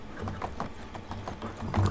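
Horse hooves clip-clopping in Medieval Dynasty, a steady, evenly paced run of moderately close hoof beats over a low background hum.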